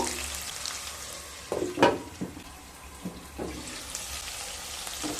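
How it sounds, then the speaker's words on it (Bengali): Salted potatoes frying lightly in a pan on low-medium heat make a gentle, even sizzle, with a few sharper stirring scrapes near the middle. "লবণ দিয়ে আলুর সাথে ভালোভাবে মিশিয়ে নিয়ে লো টু মিডিয়াম স্টিমে আলুগুলোকে হালকা ভেজে নেব"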